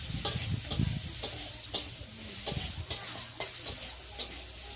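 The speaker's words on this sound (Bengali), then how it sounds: "একটু পরিমাণে হলুদ দিয়ে আমি এবার আলুগুলোকে খুব ভালোভাবে নেড়ে নিই" Potatoes with turmeric frying in hot oil while being stirred, a quiet steady sizzle broken by about a dozen sharp scraping strokes of a utensil against the pan.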